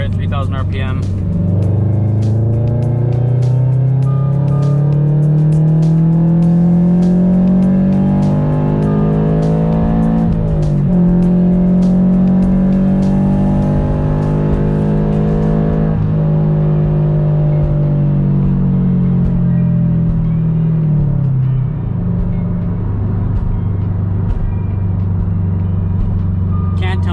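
A Subaru BRZ/Scion FR-S/Toyota 86 sports car exhaust drones steadily in third gear at 3000 RPM, a deep loud rumble with a slight rise and fall in pitch, no talking over it.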